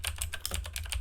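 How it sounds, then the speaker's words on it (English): Rapid, fairly faint clatter of keys being typed on a computer keyboard, a quick irregular run of clicks with no voice. "this is what it sounds like with me typing on the keyboard"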